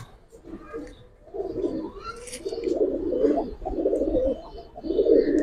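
Giribaz pigeons coo steadily in a close, continuous chorus of low, rolling calls, with some faint chirps above.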